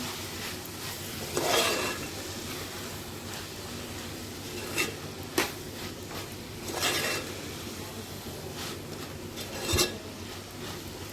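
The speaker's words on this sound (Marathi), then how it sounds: "त्याच्यात आपण करंदी परतून घेऊया करंदी टाकले आपण करंदी परतून" Dried shrimp (karandi) sautéed in a pan, a steady faint sizzle beneath scattered metal spoon scrapes and clinks against the pan, with a few louder stirring knocks spread through.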